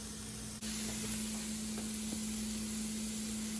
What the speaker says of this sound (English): So I'm sauteing the onion, garlic, and carrots.